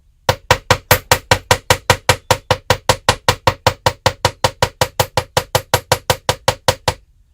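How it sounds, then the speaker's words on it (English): Rapid, steady hammering on a handmade metal bracelet to flatten it, some thirty loud, sharp close-up strikes in an unbroken even rhythm. "I'm going to hammer this so that it's flatter."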